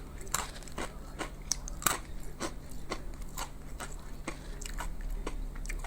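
Honey-coated peanuts (kacang licin) crunch close to the ear, with repeated crisp bites and chewing cracks in an uneven rhythm, alone without talk.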